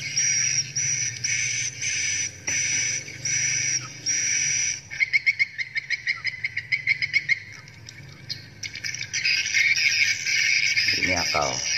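Recorded bird chick calls, repeated high chirping in bursts, layered with a fast insect-like trill, fairly loud and continuous throughout.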